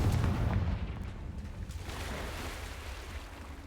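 A Confringo explosive spell goes off in Hogwarts Legacy, a heavy boom bursting at the start and rolling into a decaying rumble that fades gradually, with no talking.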